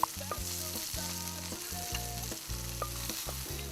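Roughly chopped food sizzles steadily in a pan while it is given a quick mix, during outdoor cooking by the Orange River in Namibia, with a constant frying hiss over steady tonal background sound and no voices.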